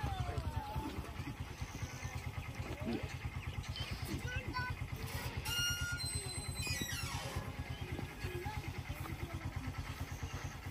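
A scooter engine idles steadily close by with a low, pulsing throb, while voices talk over it outdoors and faint traffic and birdsong sit in the background.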